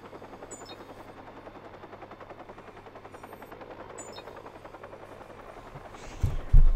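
Helicopter pursuit in the video game Watch Dogs: a steady pulsing rotor drone runs throughout at moderate level, with a sharp burst of louder impacts near the end.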